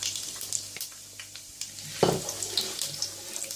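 Whole spices drop into five tablespoons of hot oil in a pot for chana pulao. A quiet, steady sizzle flares into a sharper crackling burst about two seconds in, then settles into a soft hiss.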